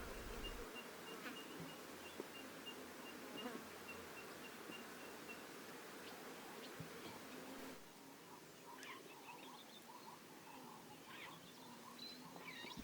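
Flies swarming over a carcass on the African savanna, a steady close buzzing drone with insects whining past, continuous and fairly faint.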